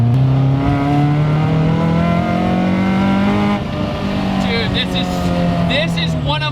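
A Toyota Starlet with a swapped Honda S2000 engine accelerates hard from inside the car, the engine tone climbing through the revs, dipping at a shift, then rising again, loud and steady with talk mixed in.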